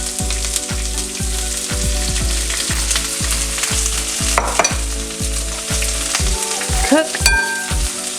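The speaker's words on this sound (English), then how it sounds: "It's gonna sizzle. You have to hear the sizzle." Onions sizzle and crackle in olive oil in a very hot pan, a close, loud frying hiss with a steady rhythmic scraping or stirring beat underneath and no voices.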